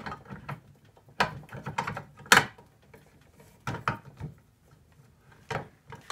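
Slug Buster knockout punch being tightened onto its draw stud, giving a series of close, irregular metallic clicks and ratcheting clunks with short pauses between turns.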